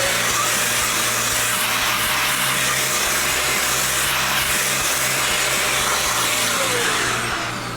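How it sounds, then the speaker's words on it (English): Vacuum cleaner running in a guitar repair shop, a loud steady broadband roar with a constant whine, unbroken for several seconds before easing slightly at the end. "got our limiter on so we can run our vacuum cleaner. Still be noisy, but not like the blow our ears out."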